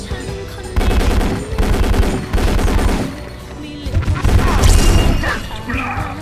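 An XSHOT Matic SG50 toy blaster fires in loud, close bursts of rapid mechanical clacks, three runs in a row with short gaps, then a longer final volley.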